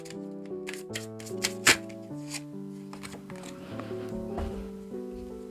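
Tarot cards being shuffled and drawn, with quick papery flicks, slaps and taps close by, one sharper snap in the middle, all over soft background music.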